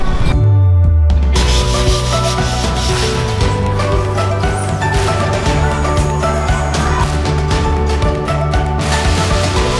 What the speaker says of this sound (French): On ponce tout à l'extérieur, on ponce ici et ici, à l'intérieur.